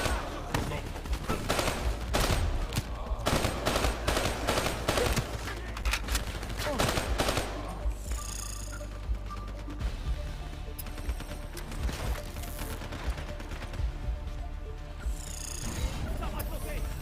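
Bursts of rapid gunfire in the Call of Duty Black Ops 3 campaign, dense and loud across the first half, then sparser shots over game music and effects, with voices speaking now and then.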